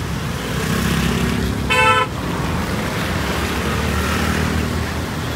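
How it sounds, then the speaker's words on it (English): Steady road traffic entering Panjim near the Patto bridge, a continuous wash of passing vehicles with one short car horn toot partway through, heard at moderate distance. "See the traffic that is entering into Panjim"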